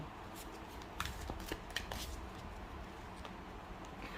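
Oracle cards are shuffled close by in a quiet room, soft papery riffles and flicks in a few quick bursts over a faint steady hiss.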